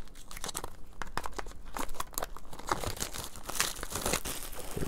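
Plastic shrink wrap peeled off a vinyl record sleeve by hand, a continuous close crinkling and tearing that grows louder and denser toward the end.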